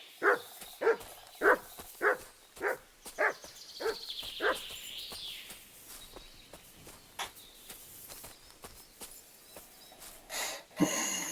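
Mutt the dog in Kingdom Come: Deliverance 2 gives a run of about seven evenly spaced, moderately loud barks or snorting huffs. Quieter footsteps and breathing follow, then a final bark.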